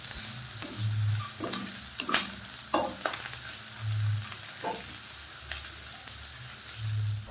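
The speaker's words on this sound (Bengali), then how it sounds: "এখন গ্যাসের ফ্লেমটাকে মিডিয়ামে রেখে সব কিছু ভালোভাবে মিক্স করে নেব যাতে এগুলো নরম হয়ে যায়" Onion, ginger, garlic, cinnamon and bay leaf stirred in a pan over a medium gas flame, with scraping spoon strokes and light clinks over a steady low sizzle, no talking.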